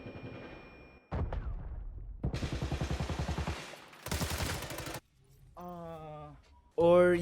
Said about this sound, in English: this clip of me whiffing a whole mag on someone pushing up